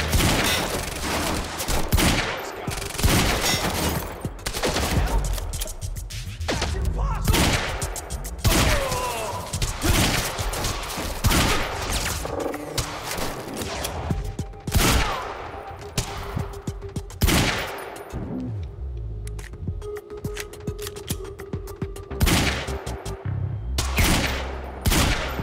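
Gunfire in the video game Quantum Break: repeated sharp shots and rapid bursts crack out over nearly half a minute, mixed with heavy thuds and booms, loud and close.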